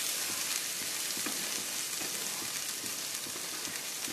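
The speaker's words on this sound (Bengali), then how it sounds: "ভালো করে ভাজব।" Pointed gourd frying in oil with garam masala, a steady, even sizzle and crackle of hot oil continuing throughout with no voices.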